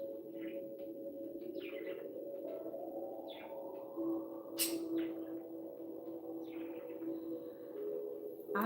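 Birds chirp and call outdoors in short scattered bursts over a steady low hum, with a brief sharp noise midway; no voices.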